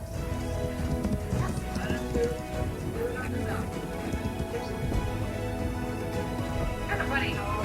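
A horse canters and gallops during a free jump, hooves thudding in quick rhythm with snorts and a neigh, heard under overlapping talk and reactions from people watching.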